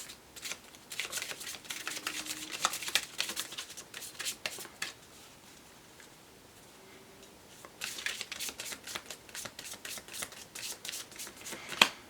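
Oracle cards, Law of Attraction deck, shuffled by hand for a reading: two long stretches of crisp, rapid riffling and flicking with a quieter pause between, close up and without talk.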